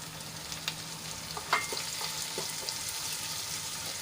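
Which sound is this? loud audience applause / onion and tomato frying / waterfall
onion and tomato frying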